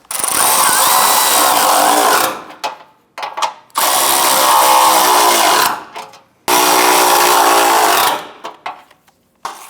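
A power tool tightening bolts on the front impact bar of a 2005-2010 Chrysler 300, three loud sustained whirring bursts with short pauses and brief blips between them.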